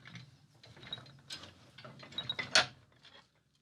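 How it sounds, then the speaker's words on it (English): A metal bar being tightened into a bench vise while forging a fireside set, giving a run of close ratcheting, grinding clicks and metallic scrapes that build to a sharp peak and then stop. "Then clamp that bit in the vise"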